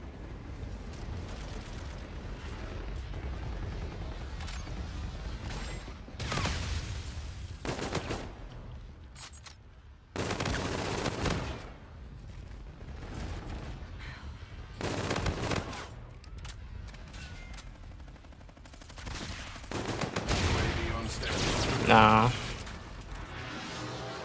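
Rapid gunfire bursts in the Infinite Warfare video game, repeated volleys of automatic shots and booms recurring across the stretch, steady and mid-level, with voices talking over parts of it.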